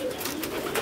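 Pigeons in a home pigeon farm cooing softly and repeatedly, several birds murmuring nearby over a low background.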